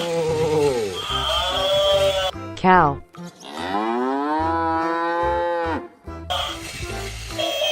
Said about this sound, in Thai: คราววัว